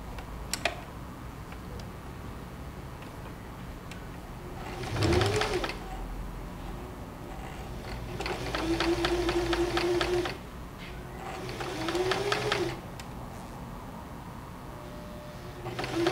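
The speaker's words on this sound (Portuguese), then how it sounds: "E já posso costurar do ladinho dele o outro branquinho" A sewing machine stitches patchwork squares for an orange quilt block, running in two or three bursts of rapid mechanical whirring with pauses between, moderately loud over a quiet room.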